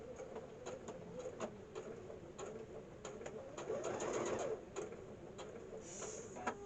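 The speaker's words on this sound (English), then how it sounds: "I've lowered the foot and start stitching" Sewing machine stitching a zippered pocket, a faint steady run of quick needle clicks that swells briefly in the middle, quiet throughout with a few soft knocks.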